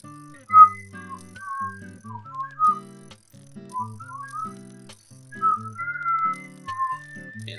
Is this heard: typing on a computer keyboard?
no